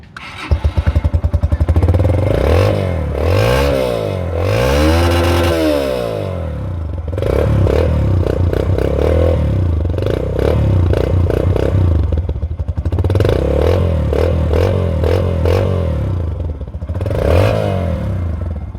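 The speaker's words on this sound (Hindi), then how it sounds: "ये स्ट्रेट एग्जॉस्ट है ना, तो इस वजह से मुझे लगता है कि इसकी साउंड है ना वो बहुत ही मज़े की है" A Yamaha YB125Z motorcycle with a straight exhaust revs repeatedly, loud and close, its blips rising and falling in waves over a steady rattling idle, with no talking.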